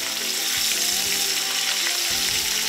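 Duck breast sears in duck fat with a loud, close, hissing sizzle, accompanied by a few low thumps and shifts as the meat is moved in the pan.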